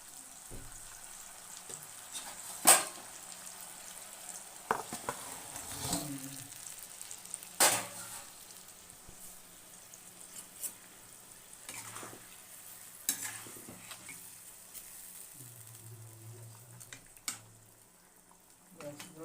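Parshe fish frying in a pan with a mustard and poppy seed preparation: soft sizzling under sharp clatters and scrapes of stirring, with a few louder knocks spread across the stretch, close but fairly quiet.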